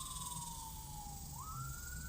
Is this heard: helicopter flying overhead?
no